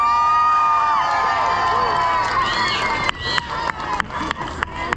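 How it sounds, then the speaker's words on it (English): A crowd at an outdoor holiday event cheers, whoops and claps in a loud, continuous roar, with children's shouts mixed in and scattered sharp claps growing more distinct toward the end. "All right, another big round of applause."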